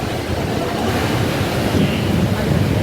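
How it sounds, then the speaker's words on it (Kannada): Loud, continuous rushing river water outside Kateel temple roars without pause, a dense steady wash of sound close by. "ನೀರು ಬರ್ತಿರೋ ಸೌಂಡ್ ಜೋರಾಗಿ ಕೇಳಿಸ್ತಾ ಇದೆ"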